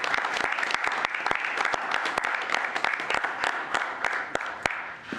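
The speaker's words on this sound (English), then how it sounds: "So we want to give a huge round of applause to this team that makes that happen." People at a city commission meeting applaud the budget team, sharp distinct claps mixing with a fuller wash of crowd clapping that carries on throughout.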